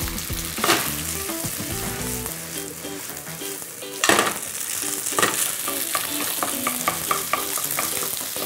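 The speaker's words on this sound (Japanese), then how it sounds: "ご飯を入れたら 炒めていきそこに塩と胡椒" Rice stir-fried with salt and pepper for garlic steak rice hisses loudly and steadily, with repeated scraping and tapping of the spatula against the pan, busy and close throughout.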